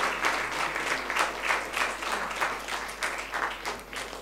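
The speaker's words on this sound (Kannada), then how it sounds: "ಎಲ್ಲರ ಹೃತ್ಪೂರ್ವಕ ಚಪ್ಪಾಳೆಯನ್ನು ಮತ್ತೊಮ್ಮೆ ಅನನ್ಯಾಳಿಗೆ ನೀಡಬೇಕೆಂದು ಕೋರುತ್ತೇನೆ" An audience at a classical music concert applauds a performer, a steady, dense wash of many hands clapping that swells and eases slightly throughout.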